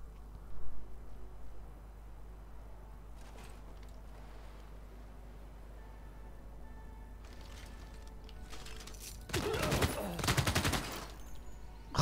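Machine guns fight a battle in Civilization 6. Muffled rattling bursts build gradually and peak in a loud, dense volley near the end, over a low constant hum.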